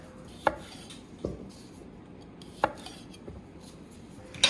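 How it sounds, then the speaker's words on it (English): A knife cuts honey gold potatoes into thin wedges on a board, giving a few sparse, sharp chops with pauses between them, quiet and close. "These are a honey crisp or honey gold potatoes. We're gonna cut them in half."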